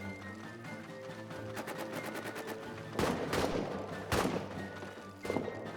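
Enemy gunfire in the World War I trench game All Quiet in the Trenches: sharp gunshot bursts crack out at intervals over a steady game-ambience bed, with a rapid rattling volley just before the loudest shots.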